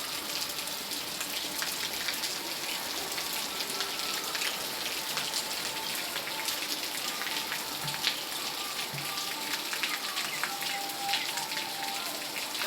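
Heavy rain falls steadily as a dense, even hiss of countless drops striking surfaces, continuous and loud throughout with no pauses.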